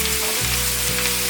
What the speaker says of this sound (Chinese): 还要再继续不断的翻炒，炒至高丽菜变成金黄色